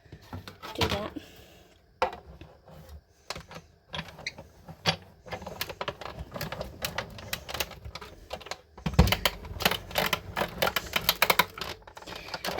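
A hand-cranked die-cutting machine with a thin die adapter labors through material, producing dense clicking, ratcheting and creaking mechanical sounds with irregular knocks that grow busier and louder toward the end, heard close up.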